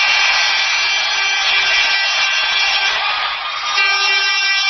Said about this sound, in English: here's the new goal horn